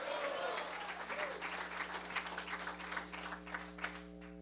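Church congregation applauding, a dense patter of many hands clapping steadily for several seconds, with voices talking over it.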